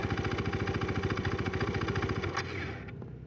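A KTM 390 Duke single-cylinder motorcycle engine chugs close by at a steady, rapidly pulsing idle, then the pulses drop away and the sound settles to a quieter, duller hum near the end.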